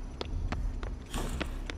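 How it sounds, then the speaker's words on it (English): Loud, evenly spaced footsteps in a video game, about six sharp hard-surface steps at a steady walking pace over a low rumbling background. "My footsteps are so loud."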